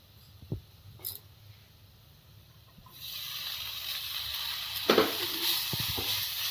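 Maggi noodles with magic masala spice hit a hot pan and fry, a soft steady sizzle rising after a few quiet clicks and taps, with a couple of clattering stirs near the end.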